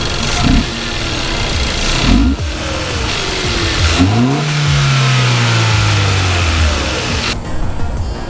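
A car engine fitted with a budget DIY cold air intake cranks and fires up, then revs with rising and falling whooshing intake roar, loud and close, settling toward an idle.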